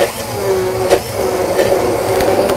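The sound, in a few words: blender mixing cucumbers with gelatin syrup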